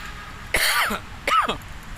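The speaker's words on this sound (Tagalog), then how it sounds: "Inuubo ako" Two separate coughs, close and fairly loud, about a second apart, with quiet background between them, outdoors at Manila Bay's dolomite beach.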